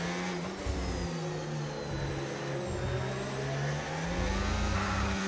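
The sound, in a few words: F1 racing car engine revving in the video game F1 25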